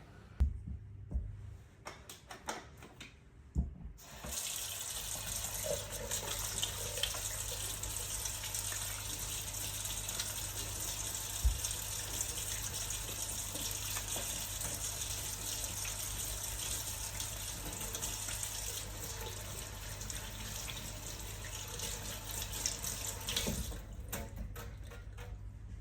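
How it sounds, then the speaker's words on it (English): Tap water runs steadily while hands are scrubbed thoroughly during preparation for donning protective gear, a constant rushing splash after a few brief handling sounds at the start that fades out near the end. "I am now going to wash my hands thoroughly"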